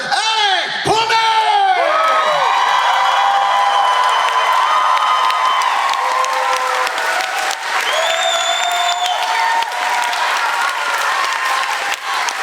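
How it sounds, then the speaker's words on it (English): Loud audience at an anime convention cosplay masquerade cheering and applauding, with whoops and shouts rising over continuous clapping that holds steady throughout. "I want you all to cheer loud, strong, hard for the Masquerade director, Pullman!"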